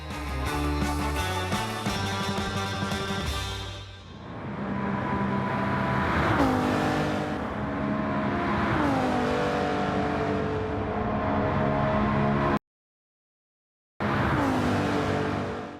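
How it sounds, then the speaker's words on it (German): A sports car's engine revs up and climbs through the gears, a loud close roar rising and falling with each shift, briefly cutting out before resuming. "Man drückt das Gaspedal durch und wird eins mit der unglaublichen Beschleunigung"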